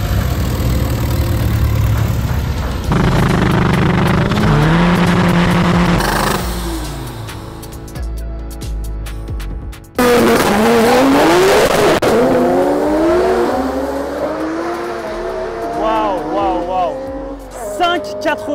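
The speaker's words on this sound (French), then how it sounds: "je te propose qu'on démarre la voiture" Car engine fitted with a homemade intake and exhaust, heard starting and then revving hard in repeated rising and falling sweeps, loud and close, with people talking nearby.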